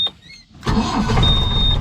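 A dusty farm jeep is started after a brief near-silent pause: the engine catches abruptly and settles into a loud, close, steady running rumble.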